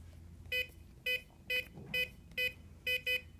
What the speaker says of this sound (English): holding the last digit until you get the second set of 2 beeps